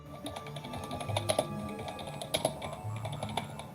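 Rapid, irregular clicking of computer keyboard keys as someone types, steady and close, with occasional louder key strikes and no talking.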